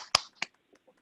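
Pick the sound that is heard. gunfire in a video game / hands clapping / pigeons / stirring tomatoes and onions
hands clapping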